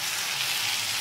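Potato and turnip fry with ginger paste in hot oil, producing a steady, close, hissing sizzle that does not let up for the whole second.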